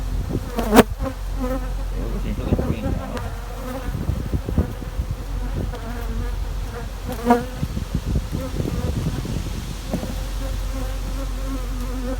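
Honey bees in a queen-rearing cell builder hive buzz steadily up close, a dense continuous hum with individual insects droning past now and then.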